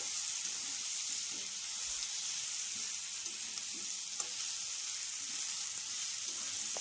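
Ginger, onion and green chili paste sautéing in a pan, giving a steady, soft sizzle throughout with faint scraping stirs and no voices.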